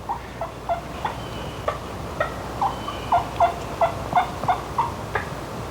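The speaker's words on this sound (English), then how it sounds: "since that gobbler started walking away, he's starting to walk away" A wild turkey gobbler calls outdoors, sending a series of short, moderately distant notes at irregular intervals over a quiet background; nobody speaks.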